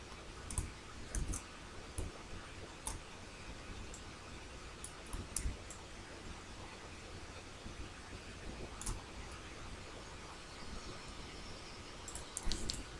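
A computer mouse clicks while a shape is dragged in PowerPoint, giving faint, scattered sharp clicks spread over a quiet background.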